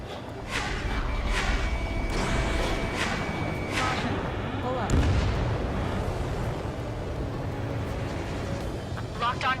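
Anti-aircraft fire and explosions in the combat flight game Ace Combat 7: Skies Unknown, loud repeated booms and bursts over a dense rumbling din, with voices talking over the battle.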